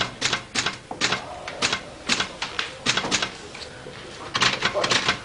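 An office typewriter clatters nearby in irregular bursts of sharp key strikes, with short pauses between the runs of clacks.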